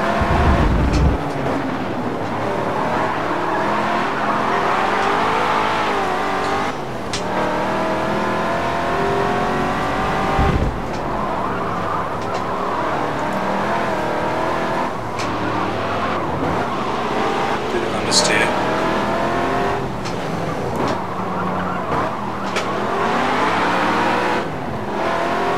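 A 1964 Chevrolet Impala Super Sport 409 in a racing video game at Sonoma Raceway's grand prix circuit, its engine revving loud and continuously through gear changes, with brief tire squeals and no talk.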